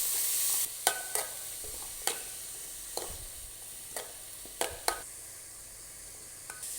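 Chopped onions frying with green chillies in a pan: a soft steady sizzle under repeated sharp clacks of a spoon against the pan as the mixture is stirred, near and moderately quiet.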